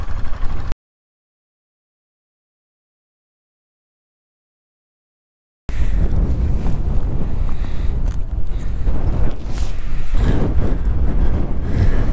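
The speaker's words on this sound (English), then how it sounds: "What do you reckon of the wind" Strong wind buffets an outdoor microphone during a motorcycle trip, a loud, continuous roaring rush with a brief gap of total silence early on, and no voices.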